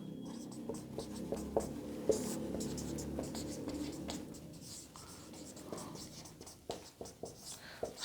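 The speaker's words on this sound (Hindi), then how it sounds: "ये लिख देता हूं" Close handwriting with a pen on paper scratches and taps steadily in short strokes, under a low background hum and with no clear speech.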